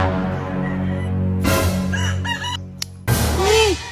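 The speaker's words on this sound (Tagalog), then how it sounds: "Manok mana." A rooster crows loudly and close by, one long cock-a-doodle-doo with a strained rising call near the end, over a steady low background hum.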